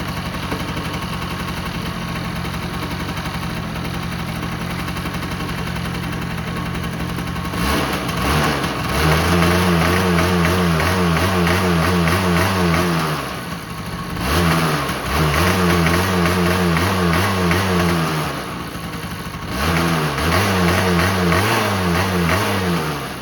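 A Honda Spree NC50 scooter engine after carburetor cleaning: a steady buzzing idle, then repeated revs that rise and hold in several bursts, dropping back between them, loud and close.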